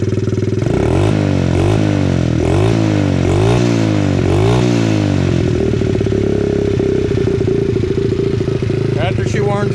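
A rebuilt Honda XR70 dirt bike engine with a brand-new kit runs loud and close, its single-cylinder note rising in repeated revving blips before settling into a steady high idle, with a brief clatter near the end.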